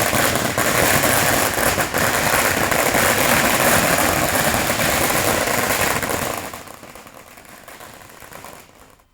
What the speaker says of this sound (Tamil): தங்கள் வாங்கி வந்த பட்டாசுகளை ஒன்றாக இணைத்து நான்கு நிமிடத்திற்கு மேல் சரவடியாக வெடித்து மகிழ்ந்தனர்